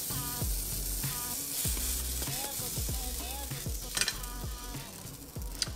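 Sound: high-protein vegan pancake cooking and being flipped in pan

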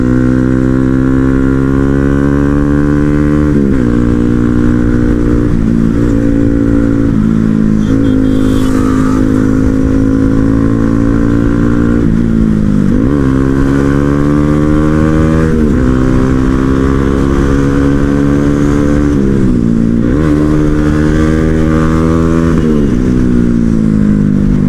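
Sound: motorcycles riding, KTM Duke 250 and Yamaha R15 V3

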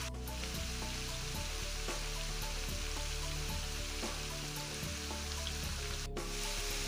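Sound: zucchini sticks sizzling while frying on high heat

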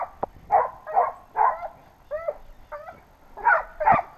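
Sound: hunting dogs barking and whimpering

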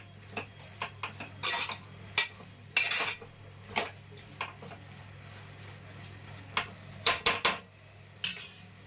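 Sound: stirring cucumber tomato curry in a pan

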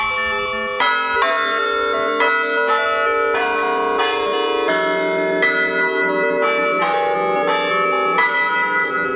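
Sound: Manchester University historic chime bells ringing

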